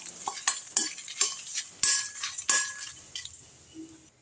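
Manathakkali greens are roasted in a kadai and stirred steadily, producing repeated close scraping and clinking strokes of a ladle against the pan over a faint dry sizzle, about a stroke every half second, with no talk.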